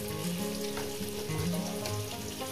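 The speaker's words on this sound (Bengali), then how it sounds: "দিয়ে এটাকে আমি 5 মিনিট ধরে ভেজে নেব।" Potatoes frying in a pan with turmeric, a steady loud sizzle with faint stirring clatter, close up and alone without talk.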